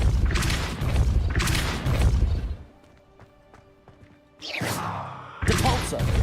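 Spell blasts in a Harry Potter video game boom out in two loud heavy thuds, drop to a quiet musical lull, then hit again with two more forceful impacts.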